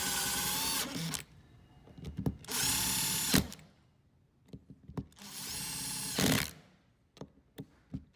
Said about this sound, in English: place the orange cap back on and retighten your Allen bolts in an X-shaped pattern